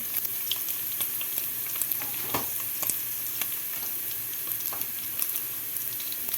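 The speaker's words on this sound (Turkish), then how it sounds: "Şimdi domates salçası ve biber salçasını ekleyeceğim" Tomato and pepper paste being stirred into sautéed meat for a chickpea and meat stew, steady close sizzling and frying with scattered spoon scrapes and clinks, no talking.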